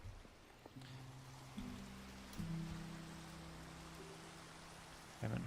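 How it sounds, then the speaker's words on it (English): Minecraft rain during daytime, a faint steady hiss of falling drops in the game, with soft low tones sustained beneath it and a few brief clicks. "it's daytime but raining."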